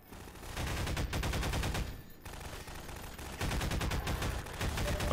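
Rapid gunfire from Half-Life 2, a dense, continuous rattle of automatic shots with only a brief lull midway before the barrage resumes, loud and unbroken by talk.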